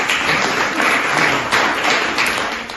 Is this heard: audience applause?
yes